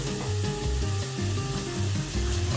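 A clove of garlic and some onion sizzle steadily in a hot frying pan, a continuous close hiss and crackle with no talking.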